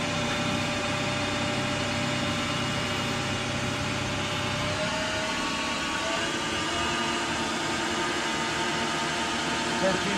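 A Standard Modern 2040 20hp 20" x 40" CNC lathe running with a steady mechanical hum and whine, a low rumbling layer dropping away midway while higher tones carry on at a constant level.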